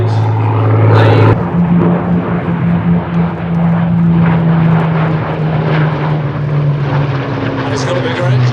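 A Hawker Hurricane propeller fighter flies past at an airshow, its engine a loud, steady drone with a strong low hum that holds throughout, with crowd or commentary voices underneath.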